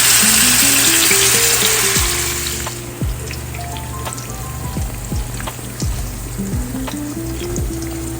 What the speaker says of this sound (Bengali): মাছগুলোকে আমি ভেজে নেব।